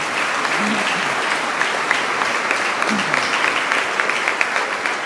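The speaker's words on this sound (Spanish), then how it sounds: "Un aplauso para el padre Antonio." Applause for a priest, a seminary formator, at a Sunday Mass: steady, dense clapping from a congregation fills the whole stretch at an even level, with a faint voice briefly audible underneath.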